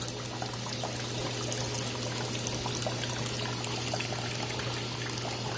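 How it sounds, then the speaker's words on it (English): Laundry detergent pours straight into the tub of a traditional agitator washing machine, a steady close trickle and splash of liquid over a constant low motor hum. "you can pour the detergent straight in the tub"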